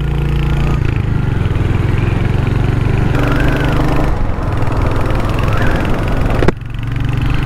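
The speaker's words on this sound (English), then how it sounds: "Plenty of torque from this engine, you know, you can change up fairly rapidly" Royal Enfield Hunter 350 motorcycle engine heard while riding, a loud, steady, close mid-pitched drone that shifts in tone with gear changes and a brief dip near the end, with no talk.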